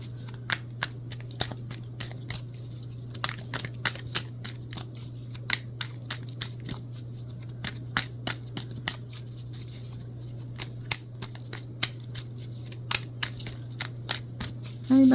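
Tarot cards being shuffled by hand during a reading, giving a steady run of quick, crisp riffling clicks and flicks over a constant low hum, close and fairly quiet, with no talking.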